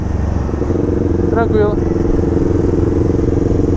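A Honda CG Fan 160 motorcycle rides along with a loud, steady engine drone and wind roar throughout, while a person briefly speaks over it.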